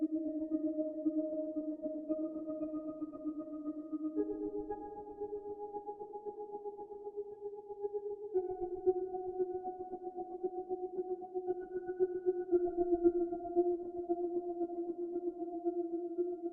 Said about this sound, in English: next I have a drone to add a sense of movement